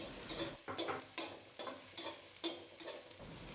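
Garlic and chili stir fry over a small flame in a pan, giving a soft steady sizzle broken by repeated scraping stirs at a loose rhythm, quiet and close, with no voices.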